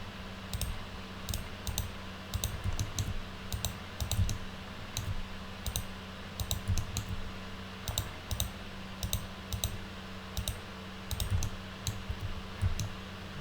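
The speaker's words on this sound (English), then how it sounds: "So now I can just hit 1 on the keyboard, hit Alt and X, hit 1" Keys on a computer keyboard are pressed while a 3D tree model for a Mario game is built, making light clicks that come in quick bursts and short runs with pauses between them, close up, steady, and with no talk.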